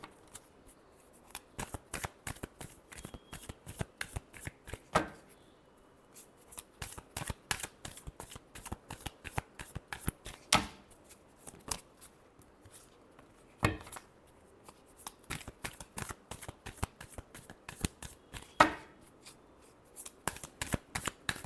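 Tarot cards are shuffled close up in repeated quick riffling bursts with short pauses between them, crisp and fairly quiet, with no voices.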